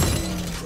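Sage's ice wall rising in Valorant, a brief crackling, shattering burst of forming ice that rings out and fades, heard alone without talk.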